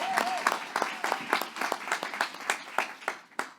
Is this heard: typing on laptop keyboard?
no